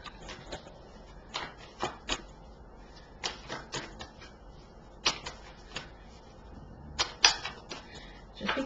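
A deck of angel cards being handled, with scattered crisp taps and riffling flicks of card stock coming in irregular bursts against a quiet room.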